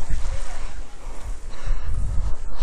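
Strong, cold wind roars steadily across the microphone at a mountaintop viewpoint on Doi Inthanon, with deep rumbling gusts throughout and a person speaking briefly underneath.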